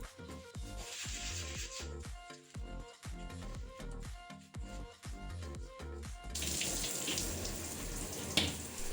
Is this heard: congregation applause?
no